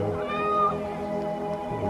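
A cat meows once in a long, drawn-out, wavering call in the Hippodrome of Alexandria in the video game Assassin's Creed Origins, heard clearly and close.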